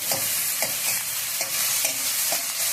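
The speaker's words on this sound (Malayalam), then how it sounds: "സവാള എല്ലാം ഇട്ട് കൊടുത്തിട്ടുണ്ട്. നന്നായി വഴറ്റുക." Sliced onions sauté in a pan for Kerala-style chicken perattu, a steady sizzle with a spoon scraping and stirring in regular strokes about every half second, close and alone.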